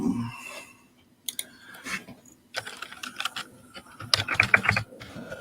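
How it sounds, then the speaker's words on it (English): Bursts of clicky computer keyboard typing come in irregular clusters of keystrokes, fairly close, separated by short pauses with faint room noise in between. "Oh, he's typing"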